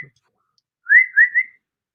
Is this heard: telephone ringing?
no